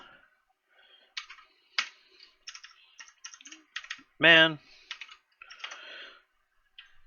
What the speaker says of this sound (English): mechanical keyboards sometimes are more trouble than they're worth